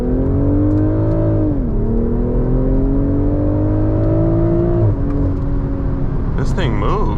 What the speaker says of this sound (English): We're in Sport Plus, and we're gonna see how it accelerates here.